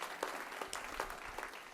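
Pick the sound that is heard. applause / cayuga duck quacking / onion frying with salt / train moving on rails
applause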